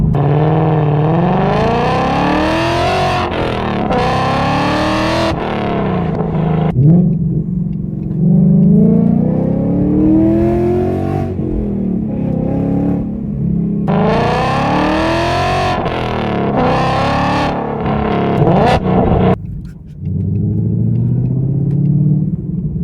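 A loud 2020 Ford Mustang GT exhaust with long tube headers revs up repeatedly as the engine climbs through gears, each shift dropping the pitch before it rises again, rumbling throughout.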